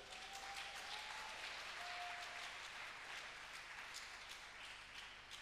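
A congregation at an AME church service applauds steadily and fairly loudly throughout, a dense wash of many hands clapping together with no pause.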